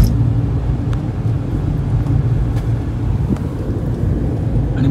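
A car on a rural road past harvested rice fields, heard from inside as a steady low engine and tyre rumble with some wind noise.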